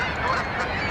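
Geese honk over steady outdoor noise at a lake, a close, dense stream of calls with no voices.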